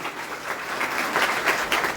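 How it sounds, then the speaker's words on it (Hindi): Audience at a religious gathering with saints at a darbar in Ajmer claps loudly and steadily, a dense wash of hands filling the whole stretch with no speech over it. "जोरदार ताली संतनि जे नाले ते।"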